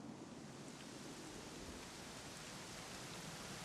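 Steady, even rainfall in the video game Dragon Quest 11 S, a soft continuous hiss of falling rain heard alone at low volume.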